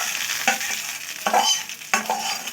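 Hot oil with fried cumin and spices is poured over fried eggplant and spring onion leaves, giving sharp bursts of sizzling and spattering mixed with scraping stirs, close and loud, with no voices.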